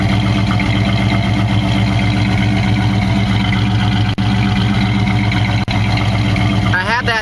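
A 1972 Chevrolet Nova with dual exhaust idles up close in a loud, steady, lumpy rumble that barely changes, with a couple of brief dropouts.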